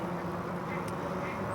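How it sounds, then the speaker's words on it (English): Ducks quack nearby at close range, a few short calls over steady outdoor background noise. "we have a couple of ducks in front of me here"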